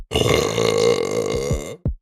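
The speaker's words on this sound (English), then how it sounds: "Some people call it a burp." A long, loud, drawn-out burp rumbles for nearly two seconds alone, followed by a short second burst at the end.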